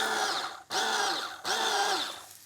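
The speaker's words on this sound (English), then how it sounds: "this time I'm just going to pulse it because I don't want it to be a puree" A food processor pulsing chimichurri made with pepper, three whirring bursts of the motor each lasting roughly half a second to a second, with brief pauses between them, loud and close.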